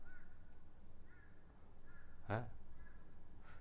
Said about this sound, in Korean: 지금 밖에서 안 들리시겠지만 까마귀가 울고 있어요.